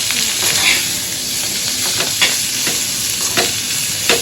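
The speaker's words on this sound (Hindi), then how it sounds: "अजवाइन का तड़का।" Ajwain seeds crackle and sizzle in hot oil in a pan on a gas stove, a steady frying hiss with scraping stir strokes, close and continuous and heard alone.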